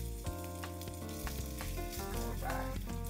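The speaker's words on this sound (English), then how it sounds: "You hear that nice sizzle?" Steady, loud sizzling of a sous-vide pork chop searing in a hot pan, a continuous crackle and hiss with no talking.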